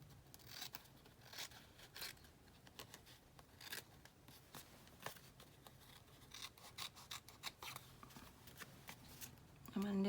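Scissors trim the edge of a collage board tag in a series of soft close snips and rustling paper scrapes, with someone speaking quietly at times.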